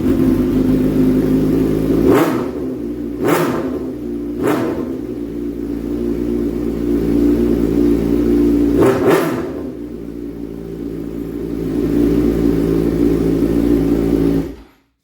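A Suzuki GSX-R 600 motorcycle fitted with a full exhaust idles loudly up close, with four sharp throttle blips spaced across the run and no talking.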